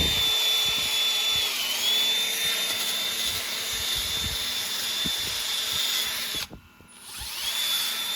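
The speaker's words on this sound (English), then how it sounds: "Wire wheel, Harbor Freight wire wheel on a drill." A Harbor Freight wire wheel spins on a drill during a transmission rebuild, giving a loud, steady high whine that dips briefly near the end before spinning back up.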